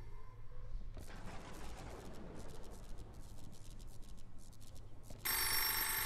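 A telephone in the horror game Misery Mansion rings insistently in a dim, quiet room, bursts of ringing starting after a second and ending in a loud tonal blare.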